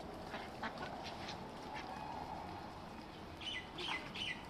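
Ducks due to start laying soon quack faintly in a few quick calls while being fed alongside chickens, over a low, steady rustling background.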